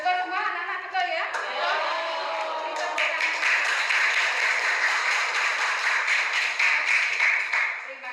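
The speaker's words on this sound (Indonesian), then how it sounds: "Terima kasih tepuk tangannya." Students in an economics classroom clap together in a dense, sustained round of applause lasting several seconds, with a teacher's voice heard briefly at the start.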